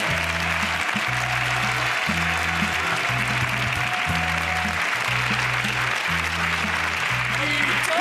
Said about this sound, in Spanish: ¿Qué tal si la apoyamos con un poderoso